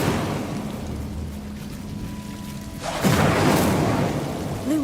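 An Incendio fire spell cast in Hogwarts Legacy, a low steady hum that suddenly bursts into a loud whooshing flare partway through, then keeps roaring with a tonal swirl.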